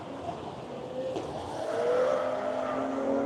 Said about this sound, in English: we're going to have a pass here on the front stretch. The Cadillac is going to overtake